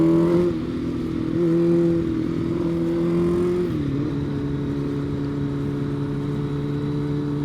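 A sport motorcycle revving while riding a wheelie to warm up its tires, a steady mid-pitched engine drone that shifts pitch once partway through, fairly close and with no talking.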